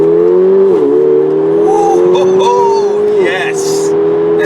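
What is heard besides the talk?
Mercedes-Benz CLA45 AMG accelerating in sport mode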